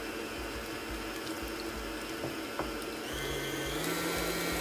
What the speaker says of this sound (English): the beater is going